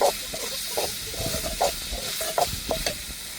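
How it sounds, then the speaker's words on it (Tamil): Stone-ground ginger garlic paste sautés in a pan, a hissing, steamy sizzle broken by repeated stirring scrapes and light taps of the spoon, close by and with no talk. "அந்த பச்சை வாடை மாறத்துக்கு நல்லா வதக்கி விட்டுக்கிடுவோம்"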